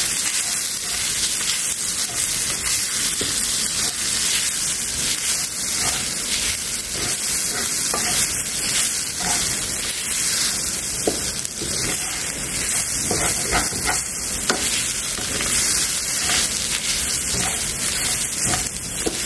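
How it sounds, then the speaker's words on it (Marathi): Green chillies for a fasting-style thecha roast in a pan over a low flame, making a continuous soft sizzling hiss with faint scattered crackles, steady and close throughout without speech. "आता आपण हा मंद आचेवर परतून घेतोय"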